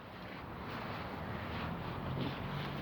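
Steady wind buffets the microphone in a continuous low rumble, with a faint hiss over it and no voices.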